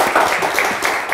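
A short burst of studio audience applause on a Turkish TV word-game show, dense clapping from many hands held at a steady level.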